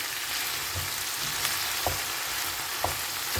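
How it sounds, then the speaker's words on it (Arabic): Vegetables sautéing in a pan with garlic and spices, a dense, even hiss of frying close by, with a few faint utensil taps and no voices. "صافي بعد ما ندير لكم المقيله ديالتي كتشحر، غادي نخليها حتى تشحر مزيان مزيان."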